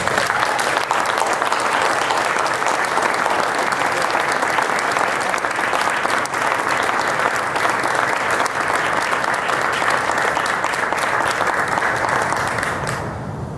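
Sustained, dense applause from an audience welcoming Misericordia University's first head football coach, steady and loud for over twelve seconds before tapering off at the end.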